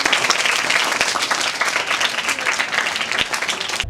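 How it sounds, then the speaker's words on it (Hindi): Loud, dense applause from a crowd gathered at a children's slum school for an MLA's birthday celebration, steady clapping throughout with a faint voice underneath. "इस सोच के लिए एक बार जोरदार ताली"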